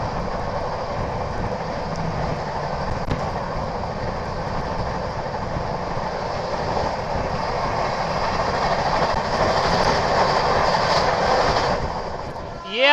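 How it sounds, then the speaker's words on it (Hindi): The Sealdah Rajdhani express on Indian Railways rushes past, a loud, continuous roar of wheels and carriages with rhythmic clatter building toward the end, heard close from trackside or an adjacent train. "ये आ गई दोस्तों सियालदह राजधानी।"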